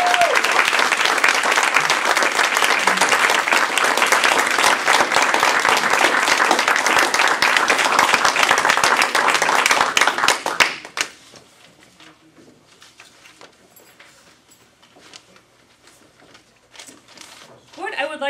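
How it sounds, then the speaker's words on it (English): An audience at an International Speech Contest claps loudly and steadily for about ten seconds, then the applause cuts off abruptly into a quiet room with faint movement. "I would like to give all of our contestants, Table Topics and International Speech, one more huge round of applause."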